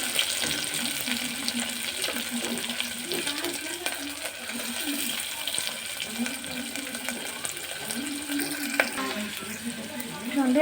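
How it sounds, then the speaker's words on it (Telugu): Onions sizzling in a pan until brown, after cumin, mustard seeds and curry leaves went in for a cabbage and moong dal curry; a steady, dense frying hiss with stirring throughout. "ఆనియన్స్ అయితే బ్రౌన్గా వచ్చే వరకు ఫ్రై చేస్తాం"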